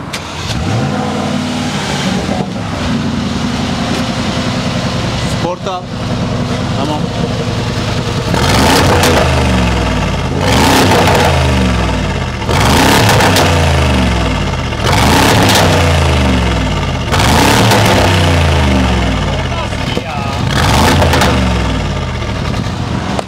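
A Mercedes G63 revs its engine hard at close range, a loud deep rumble with several sharp throttle blips repeating in a rhythmic pattern over a steady idle.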